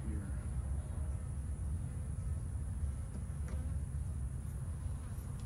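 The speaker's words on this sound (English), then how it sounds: "Move all these bees over here and start a new hive." Honey bees buzzing around an opened hive during a split, a steady dense low hum from close by with faint handling noises.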